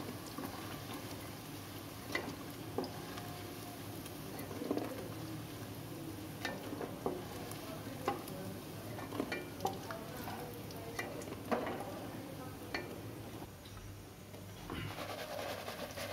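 Chilli paneer crisps in hot oil with a faint, steady sizzle, broken by scattered clicks and scrapes from stirring; no one speaks, and the whole scene sounds quiet and distant.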